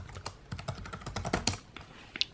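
Rapid, uneven keystrokes clatter on a computer keyboard during a login on a Linux desktop setup, a close, light tapping run with a few sharper clicks and no talking.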